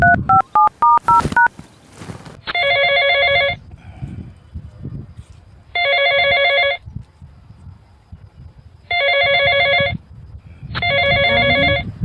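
A telephone dialed on a keypad, a quick run of separate beeping tones, followed by four evenly spaced bursts of electronic ringing, each about a second long with quiet gaps between.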